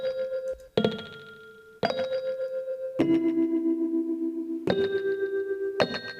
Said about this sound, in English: when you play chords and you kind of let them not start exactly at the right time, at the same time, you get that, with that bell sound